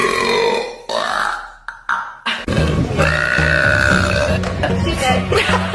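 A loud, drawn-out human burp from a woman, rough and guttural, with short vocal sounds and grunts around it, close up.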